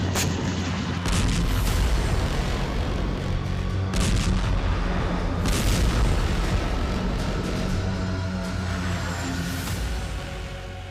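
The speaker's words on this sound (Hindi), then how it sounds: "यही वो धमाका है जिसने पूरे यूक्रेन को दहला दिया।" Sustained heavy rumbling blasts with repeated booming bursts, loud and continuous throughout, like nearby artillery fire at the Ukraine–Russia border.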